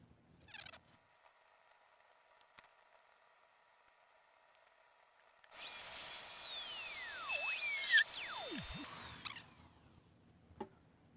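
A high-pitched drill whines steadily for a few seconds, with pitch sweeps as it bites through both layers of a plastic lid, after quiet handling clicks.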